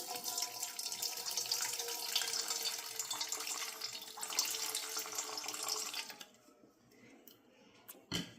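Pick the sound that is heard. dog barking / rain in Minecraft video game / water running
water running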